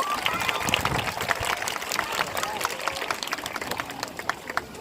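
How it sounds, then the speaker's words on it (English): An audience at the African Lion Safari parrot show claps for the trained birds, including a blue-throated macaw, producing dense, continuous outdoor applause from many hands, with voices mixed in throughout. "Let's give them a big round of applause"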